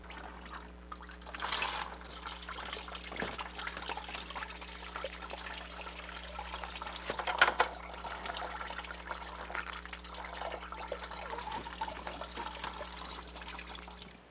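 Coolant pours and trickles out of a VW Golf MK3 engine's thermostat housing, a steady watery flow, close and moderately quiet, with a low hum underneath.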